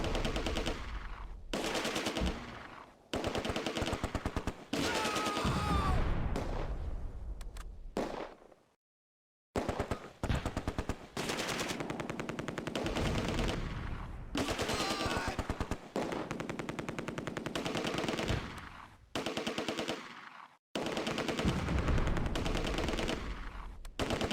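Sustained bursts of MG42 machine gun fire in the Close Combat video game, loud and rapid, in long strings of shots with brief gaps and one short pause, with no talking.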